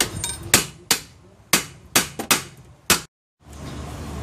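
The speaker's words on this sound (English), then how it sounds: "take a hammer and hit the nut, and it'll drive out the bolt" Repeated sharp metallic hammer blows on a nut to drive out a bolt on a 1999 Buick Riviera, about seven strikes at an uneven pace, close and loud, ending in a brief silence.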